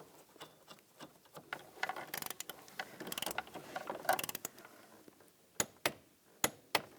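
A nut is tightened by hand-ratchet on a 2010-2017 Chevrolet Equinox door actuator, giving a series of quiet clicking, rattling ratchet strokes followed by several sharp, isolated clicks near the end, with no talking.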